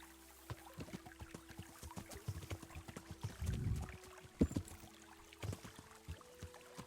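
A horse splashes and wades through a river in the video game Kingdom Come: Deliverance, with scattered watery sloshes, clopping knocks and a brief heavier splash midway, fairly quiet with no talking.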